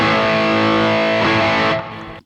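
Electric guitar played through an overdrive pedal with the gain set about a third of the way up, a loud sustained crunchy chord ringing out, then cut off abruptly.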